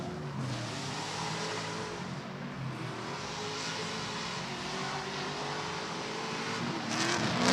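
Drift cars race in a tandem battle at a drifting event on the plains, engines roaring continuously at high revs, the sound loud and sustained with the pitch shifting as they slide past.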